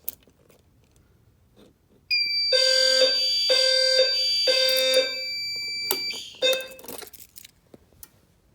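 A fire alarm sounds during a full alarm test of an SFP-10UD panel: loud repeated pulsed tones in four even bursts, a brief pause, then a final short burst before dying away, with no talking.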